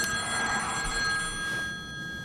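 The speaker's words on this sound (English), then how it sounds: "Oh no, not the phone again!" A telephone bell rings in a horror video game, a sustained, bright electronic trill that holds steady and then fades slightly, heard alone without voices.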